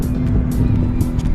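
A C7 Corvette Stingray idles as it is driven over at close range, a steady loud low engine rumble that holds constant throughout the short stretch.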